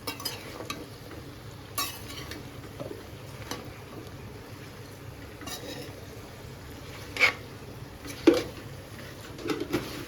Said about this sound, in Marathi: तर ही आपण प्रॉपर हलवून घेऊया आधी हे